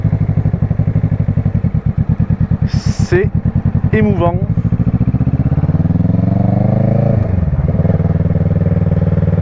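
A motorcycle rides through the streets of Albi, its engine a steady close mid-pitched drone that rises in pitch as it accelerates, while a rider's voice speaks briefly over it.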